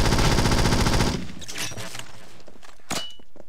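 Rapid automatic gunfire in a video game rattles loud and continuous for about a second, then stops, followed by scattered faint thuds and clicks and one more brief sharp report.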